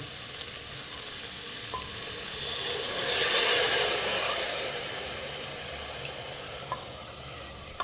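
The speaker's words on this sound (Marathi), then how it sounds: "आता आपण त्यात टाकू पाणी" Water pours into a hot pan of sautéed lentils and bottle gourd with a rising hiss and sizzle that swells, peaks and slowly fades, with a few small clinks.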